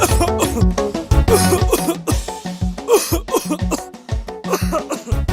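Repeated coughing in a television advert for herbal throat lozenges, sharp bursts set against a rhythmic music bed.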